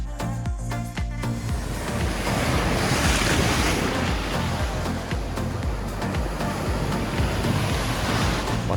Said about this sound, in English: The waves are huge, but we're going there in a moment to try it ourselves.